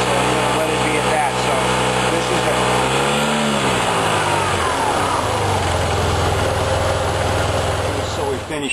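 An engine revs during an RPM and sync test at a 4000-mile checkup, holding a loud steady drone that climbs in pitch as the throttle opens, then settles into a higher sustained roar while a voice talks over it.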